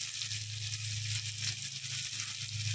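Spices such as cumin, turmeric and chilli powder sauté with ginger and tomato for khichuri, producing a steady, close sizzling hiss in the pan with a low hum underneath and no speech.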